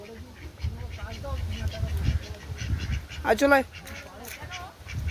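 Domestic ducks quack as a storm approaches, a burst of close, nasal calls cutting in partway through while a person keeps calling out to the birds over soft rumbling background noise.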